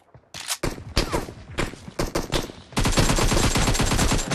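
Video game gunfire: a few scattered single shots, then a continuous rapid machine-gun burst, loud and close.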